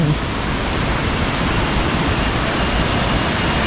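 Water pours continuously at Khlong Lan waterfall, a thick, even roar that stays loud and close from start to finish, with no talking.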